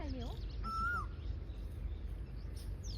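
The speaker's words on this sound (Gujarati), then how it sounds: "પેલા લીમડામાં કોયલ તવકા કરે" Loud, rising whistled calls of an Asian koel in a neem tree repeat close by early on, then fade into a steady low rumble of background noise during rain.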